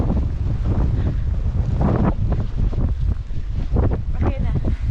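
Strong snowstorm wind in Vaasa roars and gusts continuously against the microphone, with muffled talking mixed in.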